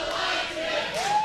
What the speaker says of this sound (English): The crowd now giving it to Bravo. Chanting